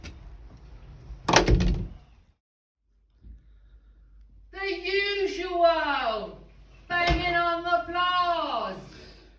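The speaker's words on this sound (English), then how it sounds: "As I close the door" A door shuts with a single loud thunk, followed by a quiet pause and then a voice talking close by.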